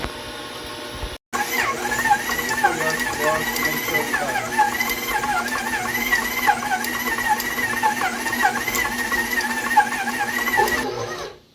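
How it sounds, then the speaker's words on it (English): A stand mixer kneads rosca de reyes dough with a steady motor hum and rhythmic whirring. It runs loud and close for about ten seconds after a brief pause at the start, then winds down. "We start mixing. We'll let it go for a while, for about 5 to 8 minutes."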